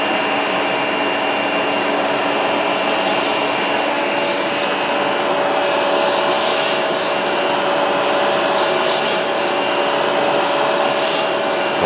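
A Pontiac roller cam gets polished with 400 grit paper while it spins, a steady loud whirring drone with faint scraping strokes layered over it, continuous and close with no voices.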